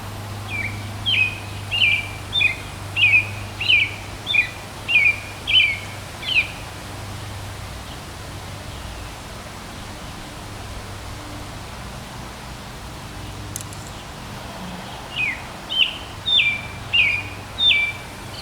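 A bird repeats a bright series of whistled call notes in two rhythmic bursts, moderately near, over a constant hiss of background noise with a quiet gap between the bursts and no talking.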